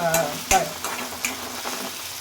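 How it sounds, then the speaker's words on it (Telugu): Masala and onions fry in a pan with a close, steady sizzle, broken by a few sharp scrapes and clicks of a stirring spoon. "ఇప్పుడు ఈ మసాలాలో కొంచెం ఆనియన్స్తో పాటు వేసినామంటే కొద్దిగా ఫ్రై అయినట్లు అవుతుంది"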